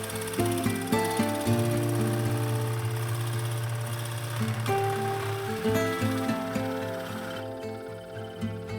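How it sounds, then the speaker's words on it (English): A lathe turns an oak kuksa blank while a 60mm Forstner bit hollows the center, giving a steady droning motor hum with grinding, chattering cutting noise close by and no talk. "using the chuck attachment on my lathe, and was able to finish hollowing out the centre the way I wanted it."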